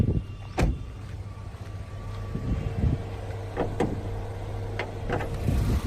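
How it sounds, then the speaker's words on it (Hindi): Bonnet of a 2022 Maruti Wagon R ZXI Plus petrol car being opened: several separate metallic clicks and clunks, a latch pull and release, spread over a few seconds against a low background hum. "आइए बोनेट खोलते हैं और देखते हैं पेट्रोल इंजन।"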